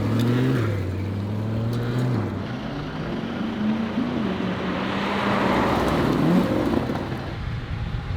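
A C8 Corvette makes a quick full pull, its engine note climbing steadily in pitch with a shift partway through, loud and close with rushing wind and road roar and no talking.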